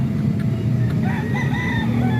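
Large roosters crow in the middle distance, a drawn-out wavering call rising over a constant low hum of background noise, with a few short clucks.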